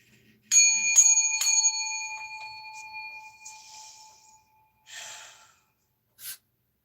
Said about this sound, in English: I'm about to hit this bell. Well, I call it a bell. It's a little brass bowl. It rings out really loudly.